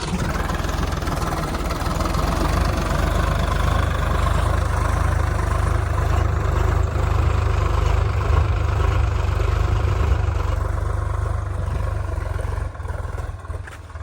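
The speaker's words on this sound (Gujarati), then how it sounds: "તો આવી રીતના કંઈક ટ્રેક્ટર મરાય છે." A tractor engine rumbles loudly and steadily nearby while harrowing a field, a deep continuous chugging drone that barely changes throughout.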